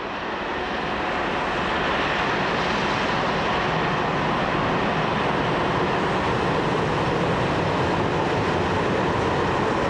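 A French SNCF CC 72000 diesel locomotive hauls a full train of hopper wagons, a continuous loud rumble and rolling wheel roar that builds slightly and then holds steady throughout, with no voices.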